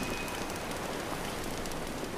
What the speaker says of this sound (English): But because it's raining, it's not gonna be easy at all.